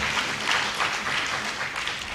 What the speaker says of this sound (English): Clap her again, man.